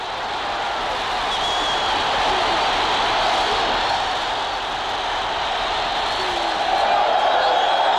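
Spectators at a Kaiser Chiefs football match in 1980s South Africa roar after a goal, a dense and sustained crowd wash that holds steady for several seconds and swells slightly near the end.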